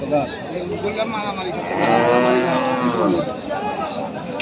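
Cattle at a village livestock market (haat) in Kaharol, with bulls for sale, give a loud, drawn-out moo close by over a constant murmur of crowd chatter and talking.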